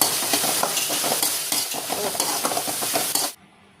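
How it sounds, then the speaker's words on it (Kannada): Green peas, carrot and potato fry in a pan, a loud continuous sizzle broken by rhythmic scraping stirs, then it drops away abruptly to near silence. "ಎಲ್ಲ ತರಕಾರಿಯನ್ನು ಹಾಕಿದ ಮೇಲೆ ಇನ್ನೊಂದು ಸ್ವಲ್ಪ ಹೊತ್ತು ಫ್ರೈ ಮಾಡಿ"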